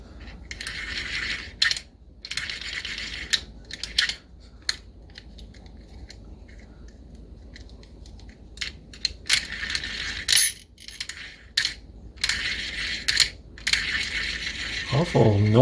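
A 1959 Shakespeare Spin Wondereel No. 1761 Model FB spinning reel with no tension on the spool, its mechanism giving off intermittent bursts of clicking and rattling whirr, separated by brief pauses.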